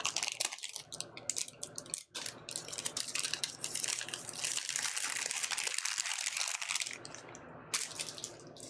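Plastic packaging of model-kit tools torn open by hand, a continuous close crinkling and crackling with irregular sharp rustles and brief pauses.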